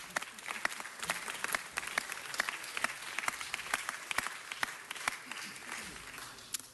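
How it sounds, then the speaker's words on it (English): Applause in city council chambers, a sparse room of people clapping with distinct individual hand claps audible in an uneven, crackling patter at moderate distance, steady throughout. "Round of applause, please."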